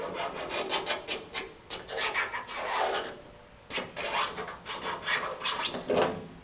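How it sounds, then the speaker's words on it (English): A small metal scribe scratches a circle into a steel firewall for roll bar brackets on a 1960s GMC/C10 truck, producing close, quiet, rasping strokes in two bursts separated by a short pause. "I'm gonna use this little scribe."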